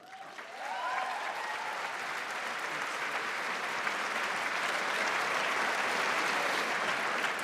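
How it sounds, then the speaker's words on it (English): An evening audience welcomes President Jason Schilling onstage with applause that swells within a second and then stays as a broad, sustained wash of many clapping hands. "thank you for that warm applause"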